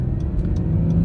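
A 2020 Acura NSX engine drones steadily from inside the cabin while driving, a close, continuous low rumble with no voices over it.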